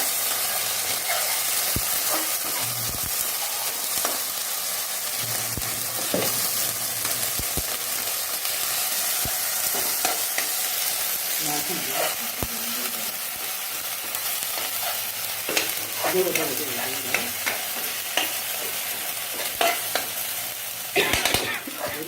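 Chili and garlic paste are stirred in a hot frying pan, producing a continuous sizzle with scraping and stirring clatter throughout, growing busier toward the end.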